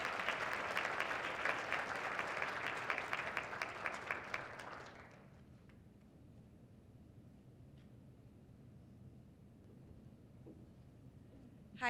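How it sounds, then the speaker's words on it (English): An audience breaks into loud, sustained clapping for Kim at a YMCA marathon community breakfast, lasting about five seconds before it fades into quiet room tone. "Round of applause for Kim."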